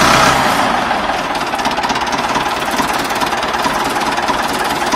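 An old England-made Ford 6600 tractor engine running, a loud close diesel rumble with rapid knocking pulses and heavy vibration, steady throughout with no talk over it.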